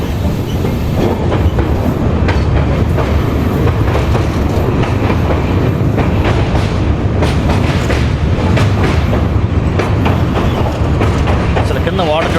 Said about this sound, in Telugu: సిల్చార్ నుంచి అగర్తలాకి ఇది ఒక ప్యాసింజర్ ట్రైన్.